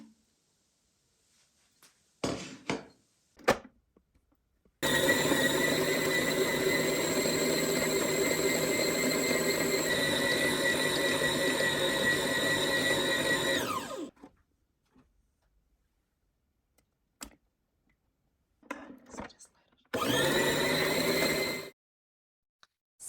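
An electric stand mixer kneading Portuguese donut dough, a loud steady motor whine running about nine seconds before winding down, followed later by a shorter burst amid scattered clunks and quiet gaps.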